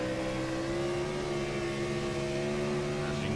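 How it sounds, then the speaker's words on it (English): A Ford Taurus race car charges along during a stock car race, its engine droning steadily with a slight rising rev, loud and close, with no talk over it. "As you can hear, a little bit of an engine rev there from Brian Jones"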